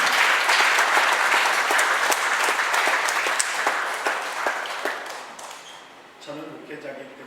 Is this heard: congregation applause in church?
yes